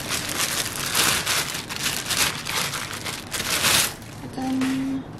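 Crinkly rustling and crumpling of a white kettle's packaging material, handled close by in bursts, with a short tonal beep near the end.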